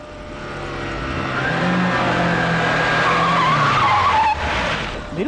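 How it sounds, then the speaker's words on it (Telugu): A car in a Telugu action film races in and skids to a halt: engine roar swells over several seconds into a loud tire screech that tails off near the end. "మెరుపు వేగంతో కారు వచ్చాగింది."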